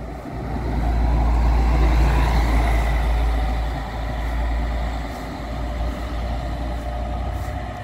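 A city bus rolls past at the Viação Cometa garage in Ribeirão Preto, a loud, deep engine roar that swells nearby and then eases to a steady idling drone.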